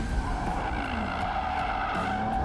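A new Bentley Continental GT luxury coupe drifts, its tires squealing in a sustained, loud screech over the engine's drone, with a few brief sharp chirps along the way.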